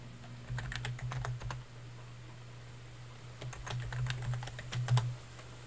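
Typing on a computer keyboard, two bursts of quick, irregular clicks separated by a pause, fairly close but quiet over a steady low electrical hum.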